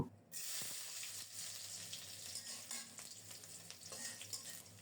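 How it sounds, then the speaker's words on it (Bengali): Whole cumin seeds sizzle and crackle in hot oil, a steady frying hiss with a few scattered pops and a soft stirring scrape. "তেল ভালো করে গরম হলে গোটা জিরা ফোড়নে দেব"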